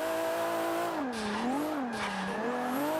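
A Nissan R34 GTR drifts through the Long Beach section in Forza 5, its engine droning in a wavering pitch that rises and dips while tires screech loudly and continuously; no talking.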